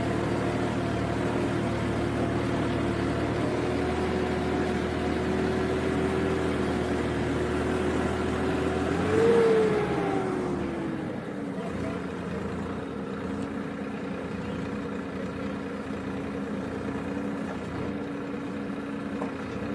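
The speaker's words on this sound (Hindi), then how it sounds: "ट्रैक्टर का जोर थोड़ा सा ज़्यादा लग रहा है" A powerful tractor drones steadily as it ploughs a field with large clods at an ashram in Sirsa. Near the middle the engine's pitch briefly rises and bends, then settles into a lower, continuous rumble.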